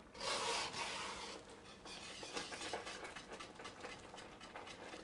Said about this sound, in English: Very gently whisk it in.